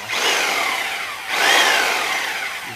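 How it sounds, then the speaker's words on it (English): A Porter-Cable reciprocating saw cutting through rough wood, two loud rasping bursts of buzzing blade strokes with a brief dip between them, close and without speech. "Sawzall is our test unit, and we'll see what this thing does"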